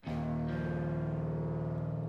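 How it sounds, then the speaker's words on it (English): A sustained synthesized tone, lightly distorted and washed in added reverb, holds steady and loud for a couple of seconds with a thick buzzing texture and a faint echoing tail. "Just very lightly distorted. Then we start adding this H reverb."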